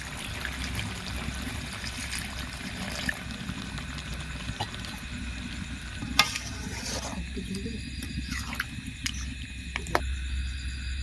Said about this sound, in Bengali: ওপর থেকে জল দিয়ে দিচ্ছি।